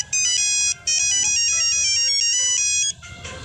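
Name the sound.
mobile phone ringtone, story sound effect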